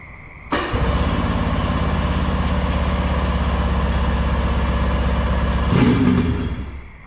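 An old jet ski engine cranks and catches, then runs at a loud, rough, steady idle for about six seconds before cutting out, close by with no voices.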